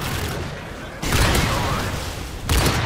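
Video game gunfire bursts out in a few loud, rapid volleys, crackling close with brief pauses between, mixed with game clatter and noise.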